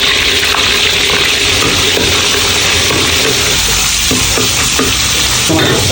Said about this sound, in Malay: Goreng dulu ya.